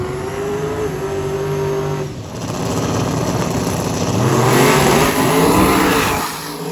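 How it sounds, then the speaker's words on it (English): Turbocharged Chevy II drag car at a Sick Week drag strip, engine droning loudly, dipping briefly, then surging back with rising revs before tapering off at the end. "Mr. Graham Hayes in the new turbo setup Chevy 2."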